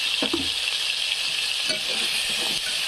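Onion and tomato fry steadily in a pan, a constant bright sizzle with a few soft stirring scrapes near the start and again later, close and alone without talk.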